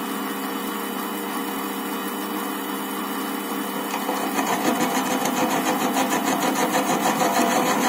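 Jet BD-7VS metal lathe running under automatic feed, a steady mechanical whine and hum that grows slightly louder and busier partway through, with no voices.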